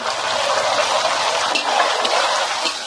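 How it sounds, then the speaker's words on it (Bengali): Garlic frying in a pan while being stirred for a village-style desi chicken curry, a dense, continuous close sizzle with scraping movement throughout and no talk. "রসুনটা ভাজা ভাজা যতক্ষণ না হচ্ছে এভাবে নাড়বো"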